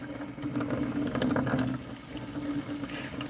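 Tap water running steadily into a cup in a kitchen, a continuous close splashing rush with a slight rising fill tone, no talking.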